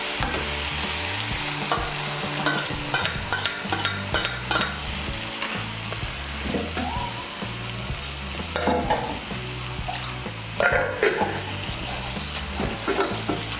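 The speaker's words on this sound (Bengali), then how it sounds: "চার মগজ বাটা আর কাজু বাদাম বাটাটাকে ভালো করে মিশিয়ে নেব। মিশিয়ে নিয়ে মশলাটাকে আরেকটু কষিয়ে নেব।" A paste of ground cashews and melon seeds being stirred into frying masala for dhaba-style chicken bharta, with a steady close sizzle and repeated scraping strokes of a spoon against the pan, no voices.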